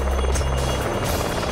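A helicopter landing on a hillside, its rotor and engine roar loud, steady and close throughout, with no voices over it.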